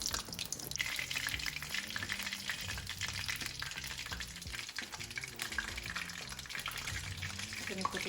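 Battered fish frying in hot oil for fish and chips, turned partway through cooking, giving a steady broadband sizzle throughout with intermittent clatter, splashes and soft kitchen noises layered over it.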